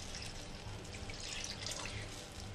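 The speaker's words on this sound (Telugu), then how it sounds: "ఇప్పుడు ఏదైతే మీకు చూపిస్తున్నానో ఆ గ్లాస్ తోటి 2 గ్లాసెస్ వాటర్ వేస్తున్నాను." Water is poured into a pan for cooking upma as a faint, steady wash of liquid sound with no talk.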